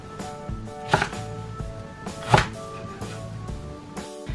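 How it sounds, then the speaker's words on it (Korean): A knife cuts halved green onion (daepa) into 6-7 cm lengths on a cutting board, two clear solid chops about a second and a half apart over low kitchen background noise. "대파는 반 갈라준 다음 6-7cm 간격으로 썰어주세요."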